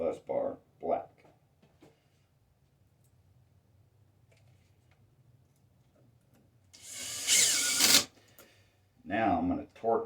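A power drill set to about 1 Nm whirs in one short, loud burst of about a second tightening a bolt on a LiFePO4 battery bank bus bar, with someone talking briefly before and after it.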